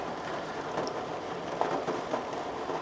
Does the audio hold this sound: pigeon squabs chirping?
no